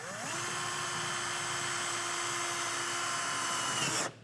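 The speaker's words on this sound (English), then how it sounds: "So I have a right angle drill, but if you have a long enough drill bit that you can gain access to the middle portion, drilling this out definitely helps." A right angle drill bores out the trailer hitch mounting point on a 2018 BMW, running as one steady, close whine for about four seconds before it cuts off, with no talk.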